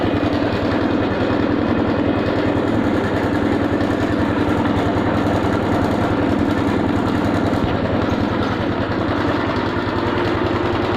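A Honda Wave 110i motorcycle idles steadily with no battery fitted, a close, even low-pitched engine putter with a fast regular firing pulse that runs unbroken and alone.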